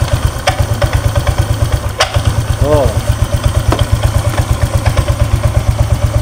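A Honda Vario 125 scooter idles at low speed with a steady pulsing engine throb, loud and close, with sharp intermittent clicks and a brief squeaky chirp over the running motor.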